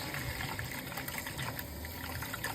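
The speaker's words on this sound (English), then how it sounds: "I'm putting twice as much water into the beans." Water pours steadily into a pot of navy beans, a continuous, fairly quiet gushing flow with no talk over it.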